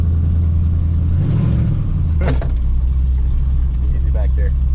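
Dodge Ramcharger engine pulling away in first gear, a loud, steady low rumble that holds throughout with a brief sharp clatter midway, close and dominant.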